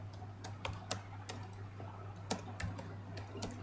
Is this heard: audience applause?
no